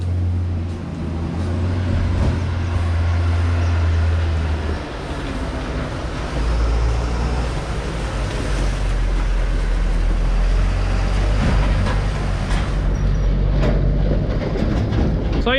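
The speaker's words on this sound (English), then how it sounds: "with tractor and trailer." A tractor pulling a trailer arrives at a farm cattle shed, with a loud, steady low engine rumble and rattling that continues for the whole stretch, close by and without talk.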